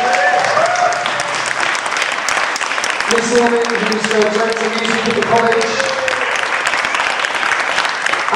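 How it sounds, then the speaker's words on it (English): An audience applauds a Catholic college choir at a church hymn event, steady clapping throughout while someone talks over it. "can we just give St. Bede's Catholic College Choir a great big round of applause for what they've done for us?"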